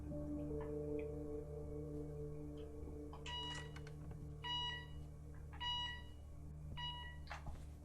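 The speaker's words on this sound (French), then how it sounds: "Là si j'ouvre il y a une alarme." In the video game The Occupation, an alarm set off by opening a door sounds as repeated electronic beeping bursts over a low steady hum, fairly faint.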